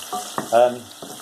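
Foraged jelly ear mushrooms hit hot oil in a pan with a bright, crackling sizzle that swells briefly. Clinking and stirring sounds come through close by.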